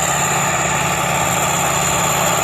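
An MTZ tractor with its wheels slipping drones steadily while pulling an AG 2.4 disc harrow across a soybean field. The engine is loud and close, with a constant low rumble and no talking.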